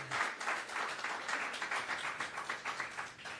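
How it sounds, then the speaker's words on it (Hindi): An audience claps for a poetry performer at a shayari gathering, a soft, fairly distant patter of applause holding steady throughout. "इनके लिए तालियां बनती है"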